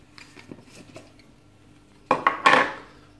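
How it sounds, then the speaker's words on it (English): Lid coming off a Nespresso Vertuo travel mug: a few light plastic clicks and taps early, then louder close clatter and a sharp scraping rattle near the end. "we'll just take the lids off"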